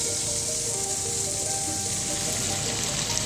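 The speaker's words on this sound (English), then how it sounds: "Listen to it sizzle." Pork frying in a pan powered by a portable solar power station at a camping site, giving a steady, continuous close sizzle with faint crackle and hiss throughout and no voices.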